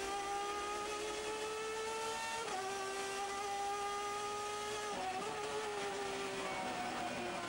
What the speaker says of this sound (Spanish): Acelera mejor el Chevrolet.